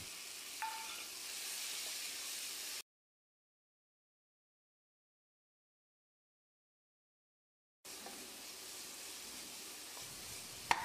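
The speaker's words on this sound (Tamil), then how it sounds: "தக்காளி மசியிற அளவுக்கு வதங்கணும்." Chopped tomatoes sautéing in a pan with softened onions for a potato masala curry give a steady sizzle with occasional stirring scrapes, heard before and after a stretch of silence.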